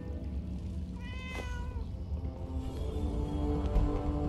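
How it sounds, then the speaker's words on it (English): A cat meows in Fallout 76 as a single drawn-out, wavering call over a steady low game-world hum, moderately close and with no talk. "I can't believe that Penny's cat isn't robotic."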